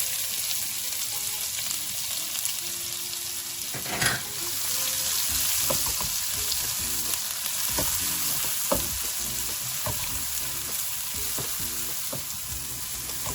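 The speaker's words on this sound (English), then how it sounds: "As soon as you can smell the cumin and fennel, the onions need to be added." Onions frying in hot oil with cumin and fennel give a steady close sizzle, broken by a sharp stir around four seconds and light scraping clicks throughout, with no voices.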